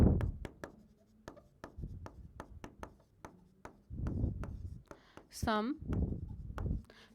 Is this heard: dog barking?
no